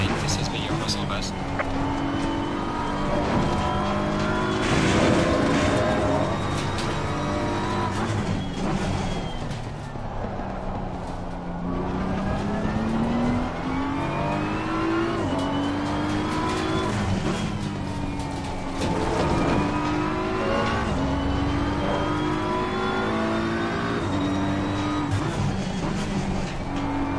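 Race car engine from a racing sim, carrying too much speed into the last corner, holds steady loud revs with rising and falling pitch through the lap, while someone talks over it throughout.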